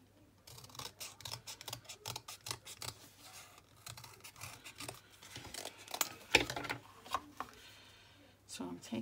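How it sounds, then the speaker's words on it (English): Scissors trimming closely around a paper image for a junk journal, a run of quick crisp snips and paper rustles at close range, with low steady background hum. "I'm just going to trim around it real close."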